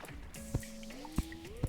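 Water in Terraria dripping and gurgling, three sharp drip-like plops spaced evenly over a soft, steady liquid tone, quiet and close.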